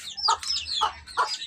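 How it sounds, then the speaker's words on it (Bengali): Chickens kept alongside pigeons in a backyard, giving three short clucks at a steady pace, close and clear, with no one speaking. "মুরগিও আছে,"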